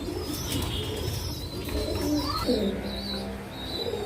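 Caged pigeons for sale coo in soft, low repeated calls, with a few higher chirps and a steady background hum.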